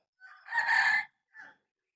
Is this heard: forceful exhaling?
no